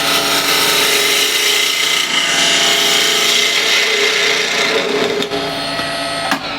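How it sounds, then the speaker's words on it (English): A spindle gouge cuts a red gum resin and wood blank spinning on a lathe, a loud continuous scraping hiss with a couple of sharp catches near the end. "Curious to see how it works with spindle gouge."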